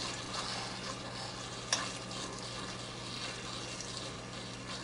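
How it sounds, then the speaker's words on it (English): Chuck roast steak sears in a cast iron skillet, a quiet, steady sizzle with a single brief tap or clink partway through and no talking. "cooking the sides by pushing them up to the side of the skillet and cooking them that way"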